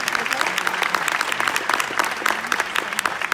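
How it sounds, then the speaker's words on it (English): Audience applause after a speech introduction, a crisp, steady burst of many hands clapping with sharp individual claps standing out, fairly close and loud. "Give him another round of applause."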